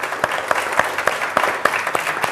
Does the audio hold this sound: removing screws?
no